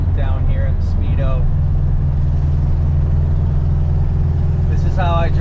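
A 1973 Volkswagen Super Beetle 1303 drives along back roads, its air-cooled engine humming as a steady low drone from inside the car, with someone speaking over it at the start and end.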